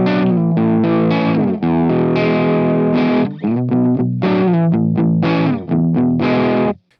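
An electric guitar on the treble pickup runs through a Rockergain 100 amp plugin, giving a loud, distorted tone with a chorus-like shimmer. A series of strummed chords and short phrases ring out clearly with brief gaps between them.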